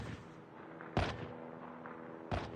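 Sniper rifle fire in the mobile shooter Call of Duty: Mobile: two sharp, loud shots about a second and a half apart over a low game-ambience bed.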